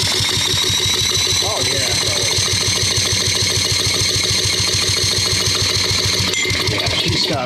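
A Briggs 200cc engine on a Simplicity leaf blower runs loudly and steadily, a fast, even pulsing chug heard close throughout, with a brief spoken exclamation over the running engine.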